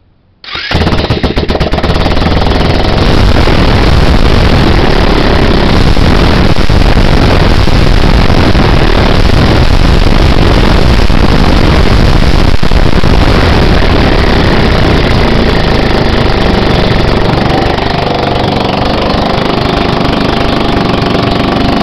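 A friend's scooter engine runs loud and steady right after a repair, with the back wheel and cover still off. It sounds like a continuous close-up buzzing roar for about twenty seconds, with no talk over it.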